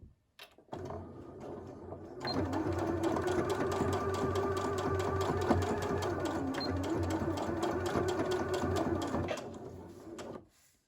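A sewing machine back stitching along a seam line on a shirred summer top, a fast steady mechanical whirr running for about eight seconds after a brief start, close and continuous with no voices.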